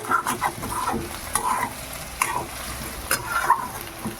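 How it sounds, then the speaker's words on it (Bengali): Fish oil frying with potatoes in a pan and being stirred, giving a steady close sizzle broken by repeated scraping strokes of a spatula, with no one talking. "এবার আমি নাড়িয়ে নেব"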